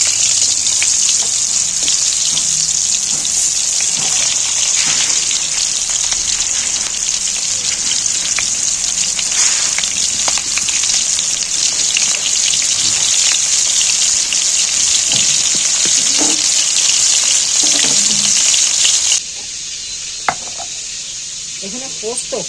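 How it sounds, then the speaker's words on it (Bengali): Pointed gourd (potol) pieces fry in hot oil in a home kitchen, giving a loud, steady, hissing sizzle that runs without a break and then drops to a quieter simmer near the end. "এই তেলের মধ্যে তুলে দিচ্ছি পটলগুলো।"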